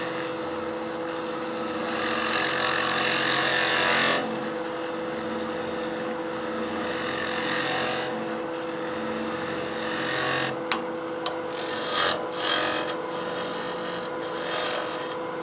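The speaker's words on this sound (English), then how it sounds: "We're making a nice planing cut." A skew chisel takes a planing cut on a figured maple box spinning at high speed on a wood lathe, producing a steady close rasping whir over the motor hum, with a few brief scrapes and interruptions later on.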